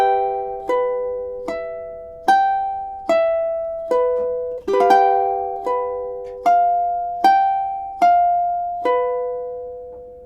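Ukulele strumming through a chord progression, about a dozen evenly spaced chords each ringing out and decaying before the next, close and clear with no voices.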